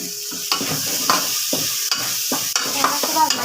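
Masala roasting in a hot pan, a soft steady sizzle broken by repeated scraping strokes of a stirring spoon, close and clear with no talking.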